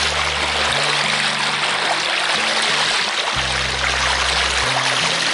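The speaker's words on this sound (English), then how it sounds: "That's the tide running out, that." Tidal water running out fast over a beach, a loud continuous rushing wash that fills the scene, with low rumbling wind buffeting underneath and no voices.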